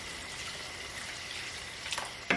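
A cup of water pours into a pot of coconut chicken curry, a soft steady trickling splash that ends with a brief louder splash.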